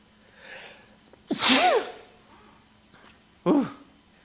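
A person sneezes loudly and close by, a sharp burst with a breathy intake before it, followed by a second, shorter sneeze a couple of seconds later in an otherwise quiet room.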